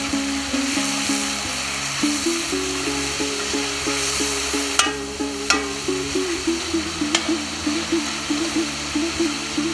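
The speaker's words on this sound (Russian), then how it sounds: "Пока мясо жарится" Steady sizzling of meat frying in a pan for Tajik fatir-shurbo, with a low continuous hum and a few sharp clicks and taps of utensils partway through.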